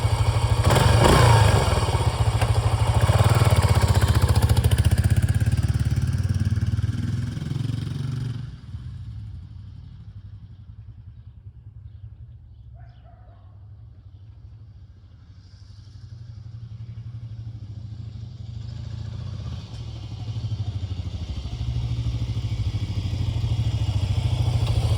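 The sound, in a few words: motorcycle engine idling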